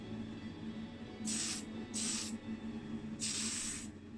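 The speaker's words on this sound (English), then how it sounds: "I'll be using the Tamiya Fine Surface Primer, a relatively light coat" Three short hissing bursts of Tamiya Fine Surface Primer spray onto a Matchbox S&S Cadillac Ambulance model car, each lasting about half a second, close and fairly loud over a steady low background hum.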